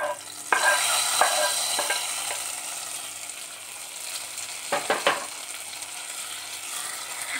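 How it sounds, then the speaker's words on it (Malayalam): Hot oil tempering of fried red chillies and curry leaves poured into a pot of Kerala Onam sadya sambar, giving a sharp burst of sizzling that settles into a steady hiss, with a few clinks and stirring knocks. "ഇനി നമുക്ക് അങ്ങ് സാമ്പാറിലോട്ട് ഒഴിച്ചു കൊടുക്കാം."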